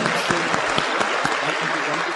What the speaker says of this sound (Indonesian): Jadi tepuk tangan sekali lagi buat lingkungan One Vision.